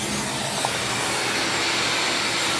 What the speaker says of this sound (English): just turn it on the suction side. And kind of suck a little bit of that out.